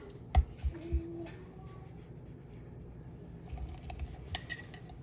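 Sourdough starter stirred with a wooden kebab stick: a few sharp clinks at the start, then soft scraping and tapping at close range with no talk.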